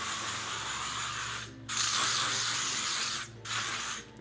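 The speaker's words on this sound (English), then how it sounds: "we are gonna add some weatherproof humidity spray to it as well" Weatherproof humidity hairspray is sprayed onto styled hair in three close, loud hissing bursts. The first burst is long, and the next two are shorter, with brief pauses between them.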